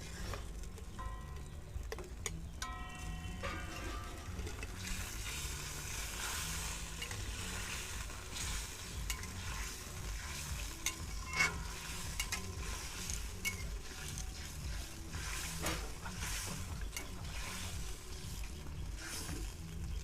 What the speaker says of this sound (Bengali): এবার আমরা ফিশ বলগুলো এর মধ্যে একে একে দিয়ে দেবো।